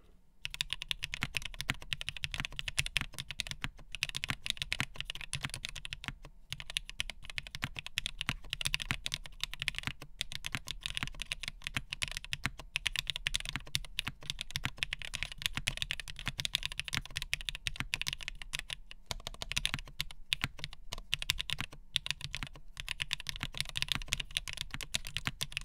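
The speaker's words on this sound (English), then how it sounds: "let me do another typing test, this time with this off." Steady, continuous typing on a top-mount mechanical keyboard with the case top removed, a dense run of close, crisp key clacks without pause for over twenty seconds, no voices.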